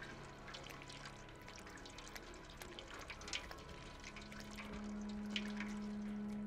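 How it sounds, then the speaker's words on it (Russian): Cat lapping water in the game Stray, a soft wet trickle with small drippy splashes under a low hum that steadies into a tone near the end, quiet and close. "Можем попить воды."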